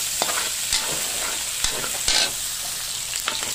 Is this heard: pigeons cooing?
no